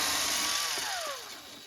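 A power drill whines as it bores holes just inside a fan blade during a solar generator build. It is a faint, steady motor drone with a pitch that slides downward as the drill bogs and eases off.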